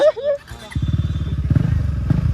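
A KTM Duke 390 motorcycle engine rumbles nearby with a rapid, pulsing idle thump that starts just after a brief burst of speech and continues steadily to the end.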